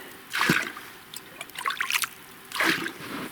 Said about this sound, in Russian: В морозы думал, вообще этот ручей замерзнет.